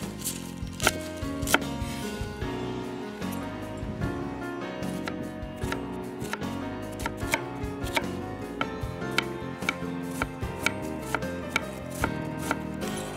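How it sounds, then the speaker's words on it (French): Spring onions, chives, parsley and onion being finely chopped for salt cod fritters, a quick, steady run of close knife taps on a cutting board, continuous with no talk. "Maintenant, j'émince finement les aromates, les cébettes ou les cives,"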